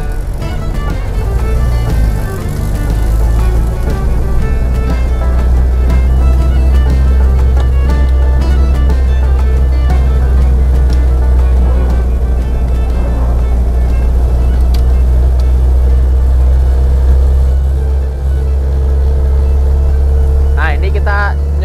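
A Land Rover engine fitted with Fitech fuel injection labours uphill in second gear at about 30, a loud, steady low drone held close throughout, while someone talks over it.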